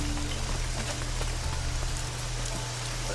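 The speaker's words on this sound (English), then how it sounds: "Cool, it's raining. Nice. I like rain." Rain falling in the video game Risen 2, a dense steady patter of drops on surfaces with a low tonal hum of game audio underneath, no talking.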